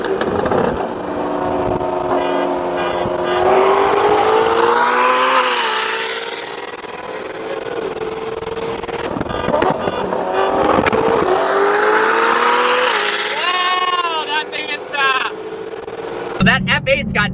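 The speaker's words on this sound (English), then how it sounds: "That F8's got downpipes and a tune, and oh my god, does that thing rip." A tuned Ferrari F8 with downpipes accelerating hard: a loud, rising engine roar through the gears, with shifts and a second sweeping pull, while people talk over it.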